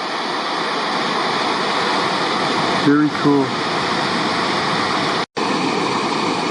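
Wapta Falls, a large waterfall, makes a steady, loud, full roar of rushing water heard from close above the falls, with a brief spoken comment over it.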